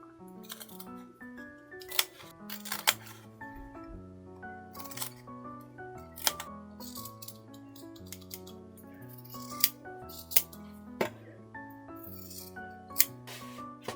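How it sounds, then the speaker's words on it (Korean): Scissors snip through fabric from an old shirt along a drawn line for a tote bag, a series of sharp crisp cuts at irregular intervals, close and clear over soft background music, with no talking. "그리고 그린 선에 맞춰 잘라내주세요."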